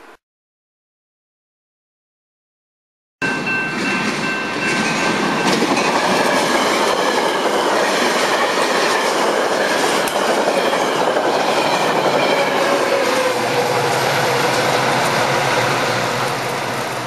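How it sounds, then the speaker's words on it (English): A Metra commuter train rolls toward a station, loud and continuous after a few seconds of silence, with rumbling wheels, rhythmic clatter over rail joints and a thin squeal of wheels on the track. "The next Metra train approaching your station."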